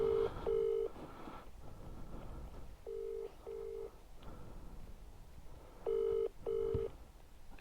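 Ringback tone of an outgoing phone call, three paired bursts of a steady tone spaced a few seconds apart over a quiet background hum.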